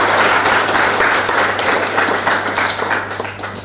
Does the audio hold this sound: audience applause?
yes